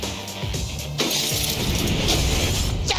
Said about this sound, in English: He just showed up and now he's smashing everything.